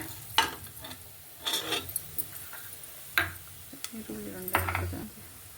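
Cinnamon, cloves, curry leaves and marathi moggu fry in oil for a village-style country chicken biryani, a soft sizzle broken by clinks and stirring knocks of a utensil against the pan.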